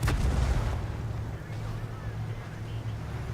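A tank's high-explosive cannon round fires in a video game, one heavy booming shot at the start that rolls off into a long rumbling decay with low engine drone underneath.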